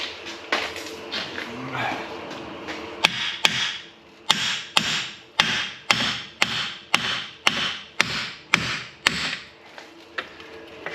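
A hammer strikes repeatedly to drive out the front wheel bearing assembly of a Saab 9-5 Aero, a dozen sharp metallic knocks in a steady rhythm, loud and close after a few seconds of quieter handling.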